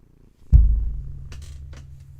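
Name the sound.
cat purring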